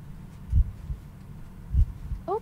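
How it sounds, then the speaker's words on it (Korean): Heartbeat effect from a horror video game, two low thumping beats spaced about a second apart, moderately loud over a quiet background hum, with a brief rising tonal chirp at the end. "갑자기 심장 소리가 들리면은 완전 긴장하게 돼"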